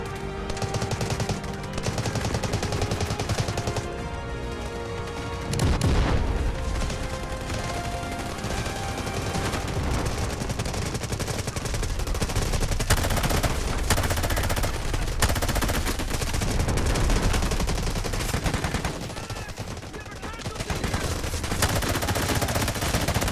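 Gunfire in a shooting video game, sustained loud automatic bursts and single shots rattling almost without pause throughout, layered over game music and effects.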